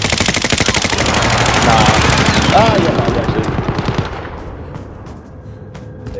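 Rapid automatic gunfire in Call of Duty: Modern Warfare, loud dense bursts that thin out and fade toward the end, while a player speaks briefly over it.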